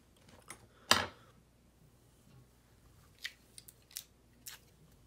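Scissors trim tying material for a laser-dub and fox minnow fly, with one crisp snip followed by several fainter snips a few seconds later. The cuts are close and quiet.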